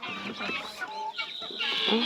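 Several chickens, including Rhode Island Reds, clucking close by alongside turkeys, overlapping calls in a busy, continuous stretch with a few higher squawks toward the end.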